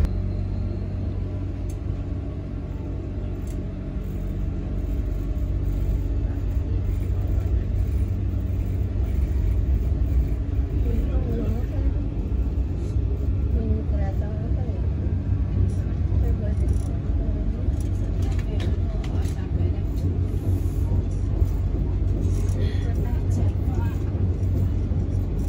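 A luxury train pulls out of Kutoarjo station, heard from inside as a deep continuous rumble that builds slightly after the start and holds steady with faint rattles, with no one talking.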